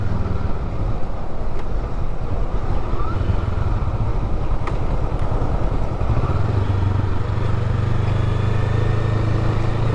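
A 2022 Honda Grom motorcycle rides along, its engine droning loudly and continuously with heavy wind buffeting, the pitch dipping and climbing again as it shifts up a gear.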